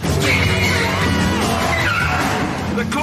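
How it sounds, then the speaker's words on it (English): Ford Fiesta skidding through a handbrake turn inside a shopping mall during a chase, a loud sustained engine roar with tire scrub, under a voice and crowd noise. "Dab of the handbrake,"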